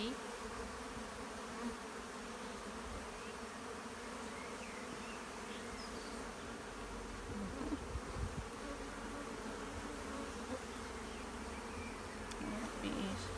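Honeybees buzz around an open hive in a dense, continuous drone heard close, with a few louder passes as individual bees fly near.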